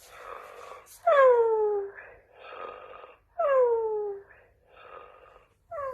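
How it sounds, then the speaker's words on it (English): A battery-powered toy pet dog gives a snoring cycle alone, loud, repeating about every two seconds: a sharp falling whine on each inhale, then a softer breathy exhale. "Oh, she's snoring."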